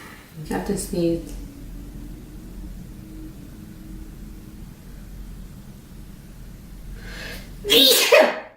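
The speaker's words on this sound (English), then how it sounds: "I have to sneeze." A person sneezes once, loud and close, with a sharp burst at the end after a quiet, breathy lead-up; someone speaks briefly near the start.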